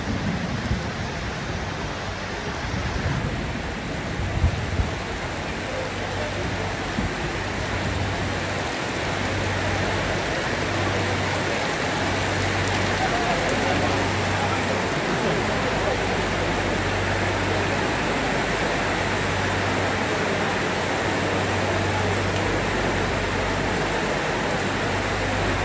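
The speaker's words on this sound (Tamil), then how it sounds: "கடுமையான மழை, மிகவும் கடுமையான மழை." Heavy, steady rain pours down in a dense continuous roar, with faint low rumbles and some indistinct voices under it.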